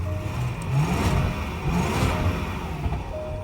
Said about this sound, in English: we hear that little backfire there too